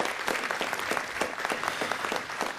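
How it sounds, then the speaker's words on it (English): A room of people at a city council meeting gives a steady round of applause, with dense, even clapping from start to finish. "Let's give Jorge a round of applause."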